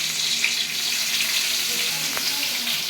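Onion and green chilli frying in hot oil tempered with nigella seeds, a loud, close, continuous sizzle with a dense hiss that holds steady throughout, with no voice over it.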